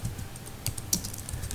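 Keys clatter as C program code is typed on a computer keyboard, a few soft taps with one sharper click, fairly close over a low background hum.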